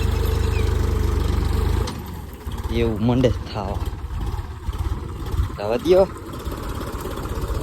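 A tractor engine on a farm rumbles loudly and steadily close by for about two seconds, then stops abruptly as people begin talking over the quieter background.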